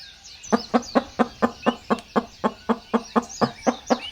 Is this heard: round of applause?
no